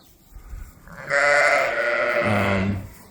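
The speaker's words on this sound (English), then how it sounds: "that sheep won't shut up" A sheep bleats loudly and close by on a farm while livestock are sorted, one long wavering call that shifts pitch near its end, after a quiet start.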